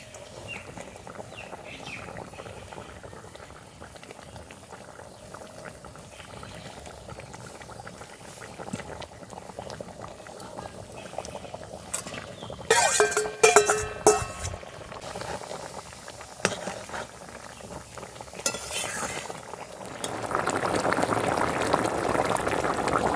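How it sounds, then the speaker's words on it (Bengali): Mustard fish curry gravy bubbling at a boil in a pot, a soft, steady bubbling and hiss that grows louder toward the end, with a brief burst of clatter partway through. "ঝোল ফুটে গেছে দেখো"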